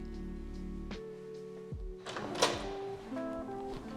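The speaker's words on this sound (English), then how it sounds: "8 different doors means we can record 16 different sound effects just by opening and closing the door." An apartment door opens and closes with a couple of dull thunks and a latch click, sounding near and moderately loud against a low room hum.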